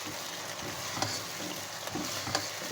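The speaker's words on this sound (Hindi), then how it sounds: "फ्राई कर रहे हैं तो इसको तेज़ आंच पे फ्राई करें।" Chicken frying on high heat, a fairly quiet continuous sizzle broken by a few sharp stirring clicks and scrapes of a spoon in the pan.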